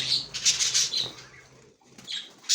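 Pigeons in a breeding loft flap their wings in quick, loud bursts close by, mixed with soft chirps and shuffling, with a short lull before another burst of flapping.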